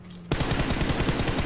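Rapid automatic gunfire in Battlegrounds Mobile India, a steady burst of evenly spaced shots rattling loud and close for over a second after a brief quiet moment.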